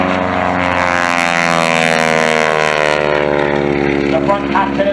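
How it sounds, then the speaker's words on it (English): Pratt & Whitney radial engine on an air show plane's nose spinning a 108-inch Hamilton Standard propeller, a loud steady droning roar with layered harmonic tones that shift slightly in pitch, close and continuous, with faint talk beneath. "Pratt & Whitney radial engine mounted on the nose, spinning that big 108-inch long Hamilton standard propeller"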